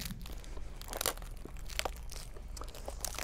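Adhesive tape is peeled and torn off a Super Arlequin sailboat during preparation for relaunch, a continuous close crackling and ripping with small crinkly bursts.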